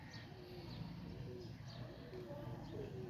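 Fancy band-tail pigeons kept for pigeon flying coo softly in low, repeated murmurs against a steady background hum, with faint chirps from other birds.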